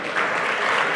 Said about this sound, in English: Big applause for Munia, please.